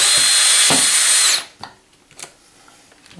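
A Festool power drill drilling into wood whirs loudly at high speed for just over a second, then stops, followed by a few scattered knocks and clicks.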